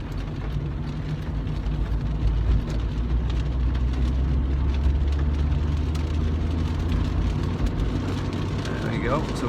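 A car cruises at speed along a dual carriageway in the rain, with a steady engine drone and road and rain noise holding constant throughout.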